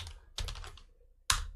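Keyboard typing on a computer while working in Microsoft Excel: two short bursts of close, clattering keystrokes, the second ending in a sharper key press, with no talking.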